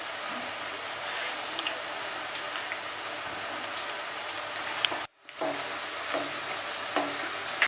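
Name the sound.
batter-dipped topse fish frying in hot oil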